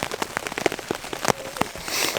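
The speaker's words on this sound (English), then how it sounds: "The rain is coming down pretty good." Heavy rain on a tarp patters and taps in quick irregular drops close by, with a steady wet hiss underneath.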